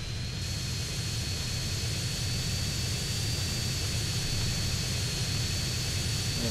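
Harrier jump jet in GTA San Andreas, its engine giving a steady, loud, unbroken roar with a high whine on top, continuous throughout with no talking.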